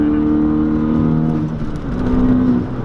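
A Hyundai Veloster Turbo fitted with an aftermarket downpipe accelerates hard, its engine droning loudly and steadily from inside the car, with a brief dip in the middle before revving up again.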